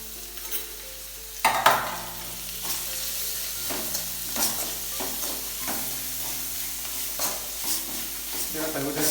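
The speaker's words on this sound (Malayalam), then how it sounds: "നീരുള്ളി കുറച്ച് റോസ്റ്റാകും." Shallots fry and roast in a pan for a South Indian mutton pepper masala curry, with a steady close sizzle and repeated scraping stirs of a spoon against the pan.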